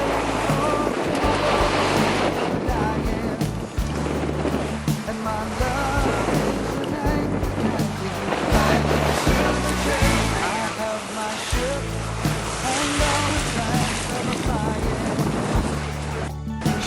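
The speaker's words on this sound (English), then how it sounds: "this breeze stabilized the boat" A sailboat on Lake Michigan is pushed along by a steady breeze, with continuous loud wind rushing over the microphone and waves washing and slapping against the hull throughout.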